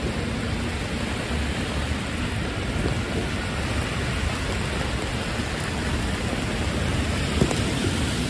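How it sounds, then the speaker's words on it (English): Heavy rain pours down on a New York City street during flash flooding, a dense, loud, unbroken hiss with no pauses throughout. "Hopefully you're enjoying this very rainy New York City day."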